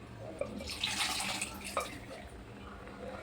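Cooked pav bhaji vegetables and water tipped from a pressure cooker pot into a kadai make a splashing, gushing pour with a few thuds, under faint talk.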